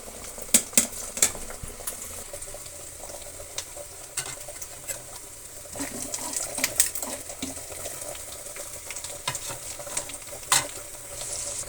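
Egg sambar with pulses and lentils bubbles in a pot, a close, continuous crackly simmer broken by scattered sharper pops and clicks.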